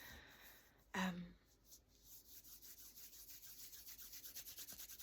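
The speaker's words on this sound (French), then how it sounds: "Déjà quand je frotte les mains comme ça," Hands rubbing briskly together at close range, a steady rhythmic swishing friction that quickens and grows louder after a brief knock near the start.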